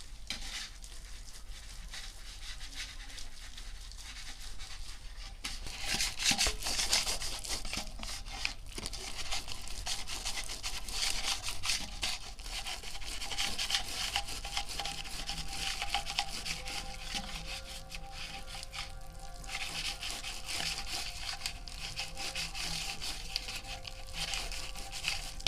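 Palmyra palm fruit pulp is rubbed and scraped by hand, producing a soft, continuous wet rubbing and squelching with scattered crinkly scrapes, close and fairly quiet.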